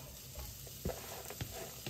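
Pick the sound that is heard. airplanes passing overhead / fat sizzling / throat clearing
fat sizzling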